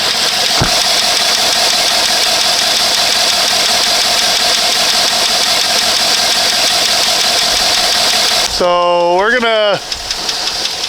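A one-ton crew cab long box dually truck engine idling with a tick, a loud steady running hum close up, with a brief speaking voice and a sharp shift in tone near the end.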